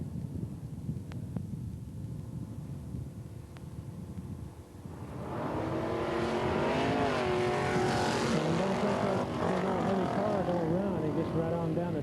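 A drag racing car makes its run down the track at Ark City, its engine roar rising suddenly from a quieter crowd-and-announcer background into a loud sustained wail that holds to the end.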